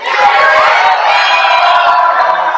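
Loud crowd at a 1998 novice fitness competition night in Detroit, shouting and cheering together in a dense, continuous roar of many voices.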